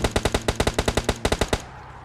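Rapid automatic gunfire in PUBG Mobile, a fast burst of about fifteen sharp shots in a steady rhythm, loud and close, cutting off abruptly before the end.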